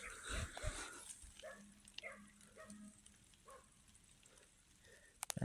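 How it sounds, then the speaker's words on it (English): A small yappy dog barks in a series of short, sharp yips at a distance outdoors, fairly faint against open-air background. "one of those little yappy dogs"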